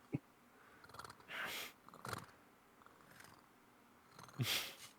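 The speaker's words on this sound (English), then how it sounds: "Cat's just purring." A cat purring close by, soft rumbling bursts in uneven breaths with quiet gaps between, faint overall with a few louder swells.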